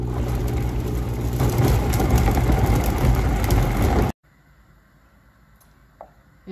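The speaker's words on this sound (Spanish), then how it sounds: "Licuamos." A blender whirs loudly and steadily for about four seconds, blending onion, a garlic clove, salt and a splash of water for a stuffed poblano chile sauce, then cuts off abruptly into near silence.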